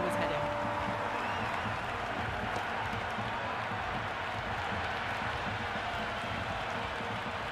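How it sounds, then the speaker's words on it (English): Stadium crowd noise in the Cricket 26 video game on PS5 during an India vs New Zealand ODI: a dense, unbroken roar of cheering and applause that holds at an even level throughout. "The crowd are really getting quite raucous."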